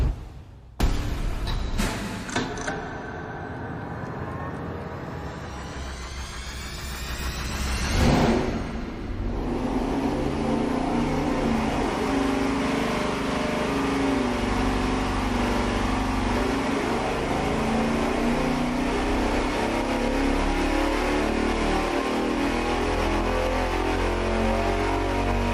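A big-block Chevy 440 with TFS aluminum heads, naturally aspirated, roars on an engine dyno during a power pull, rising through the revs in a sharp sweep before holding a loud, steady wide-open drone for the rest of the run.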